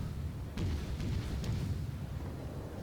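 A shell striking an enemy ship's citadel in World of Warships, a dull booming impact with a few sharp cracking bursts over a low rumbling battle background, moderately loud and without talk.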